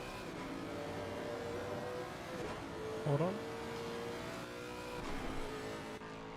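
A Lexus LC F GT3 race car engine in a racing game, steady mechanical drone with a brief rising rev in the middle, heard under a commentator's voice, with a short spoken remark.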